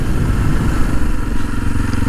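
Kawasaki KLX230 dual sport motorcycle engine running close by with a steady low, throbbing idle and no speech.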